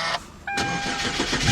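A 2012 Hyundai Genesis Coupe Grand Touring with a 3.8 liter V6 is push-button started: a short starter whir, a brief pause, then the engine catches and settles into a close, steady idle.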